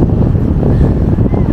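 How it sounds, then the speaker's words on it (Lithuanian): Steady wind buffets the microphone on a sandy Andalusian beach, a loud, constant rumbling roar with no voices over it. "Vėjuota."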